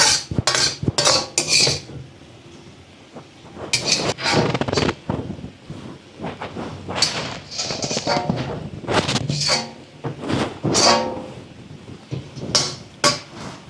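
Plates and cutlery clatter and clink in a home kitchen while school lunch boxes are prepared, giving repeated close, loud bursts of metal and ceramic knocks with short pauses between.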